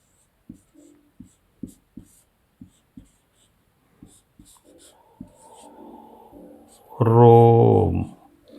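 Pen strokes writing English shorthand signs on paper: a series of short, distinct scratches spaced about half a second apart, followed by a soft longer stroke and then a louder, sustained burst near the end.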